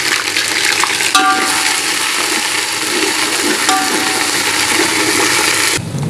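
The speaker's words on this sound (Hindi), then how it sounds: "लहसुन अदरक को हमने थोड़ा भून लिया, इसका कच्चापन थोड़ा ख़त्म हो चुका है।" Garlic, ginger and green chillies frying in oil in a pot for chicken yakhni pulao, a steady close sizzle with a couple of soft clinks of a stirring utensil, no talking.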